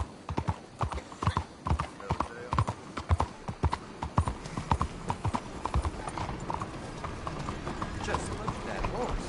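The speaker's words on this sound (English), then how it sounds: "Just look at that horse" Horse hooves clip-clop in a steady trotting rhythm in Red Dead Redemption 2, close and crisp, with faint mechanical clicks, fading somewhat toward the end.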